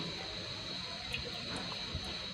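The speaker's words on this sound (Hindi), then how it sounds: "इसको छन्नी से, स्ट्रेनर से इसको छानेंगे और इसका ये पानी जो है ना इससे निकालेंगे" Water from boiled spaghetti poured through a strainer in a home kitchen, a steady soft rushing splash that runs continuously and fairly quietly with no voices.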